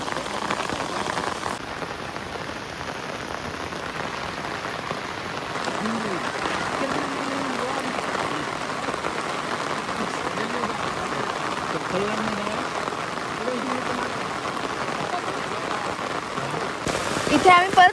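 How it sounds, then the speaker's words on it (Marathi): Heavy rain falls steadily outdoors during a village fishing trip, a dense continuous patter that lasts throughout, with faint voices now and then. "पाऊस काही कमी होत नाहीये ना"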